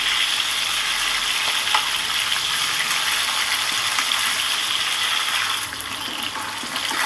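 Pieces of rohu fish frying in hot oil, a steady, dense sizzle and crackle running close and loud for the whole stretch, easing slightly toward the end.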